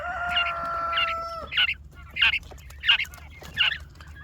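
Quail call nearby in a steady series of about six short, bright chirping notes spaced roughly half a second apart, with a faint low hum underneath.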